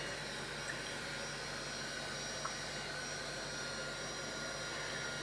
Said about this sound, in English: I'm using a heat gun or embossing gun